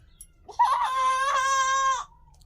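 A chicken at a home gives a single drawn-out, strained call lasting over a second, close and fairly clear against a quiet low hum.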